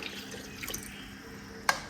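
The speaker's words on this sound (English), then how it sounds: "We'll go ahead and add 400 milliliters of water to the bowl." About 400 milliliters of water poured into a mixing bowl for pizza dough, a steady close splashing trickle with a sharper drip or splash near the end.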